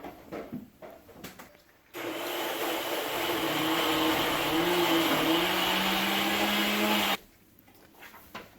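Electric mixer grinder whirring steadily for about five seconds as it grinds masala paste for a Tamil fish curry, framed by faint clatter and quiet handling sounds before and after.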